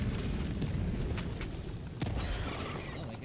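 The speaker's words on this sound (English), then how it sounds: "Throwing grenade!" Grenade explosion in Helldivers 2 battling Hunters: a faint, low rumbling boom with scattered crackling debris and a couple of sharp bursts, rolling steadily for a few seconds without talk.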